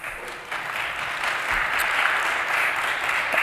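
An audience at a First Amendment summit breaks into sustained applause, a dense, even roar of many hands that swells slightly and holds steady for several seconds.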